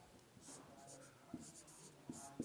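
Chalk or pen writing during a physics lesson on lens combinations, a faint scratchy stroking with soft taps, heard quietly at close range with no talk over it.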